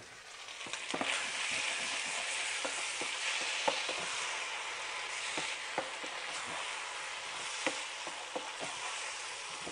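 Spinach pasta is stirred in a pan with a little oil, a soft steady sizzle broken by frequent light scraping clicks of the utensil, close and without speech.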